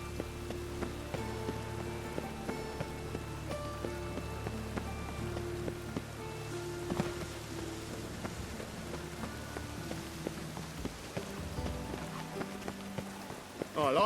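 Rain falling in the video game The Witcher 3, a steady patter over layered game music and effects, holding at a soft, even level for the whole stretch before a voice briefly begins at the end.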